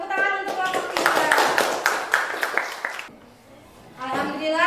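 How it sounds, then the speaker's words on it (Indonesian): A group of students claps for the third group after its classroom presentation, a bright burst of hand claps that stops abruptly, followed by a pause and then a voice speaking. "Tepuk tangan untuk kelompok 3."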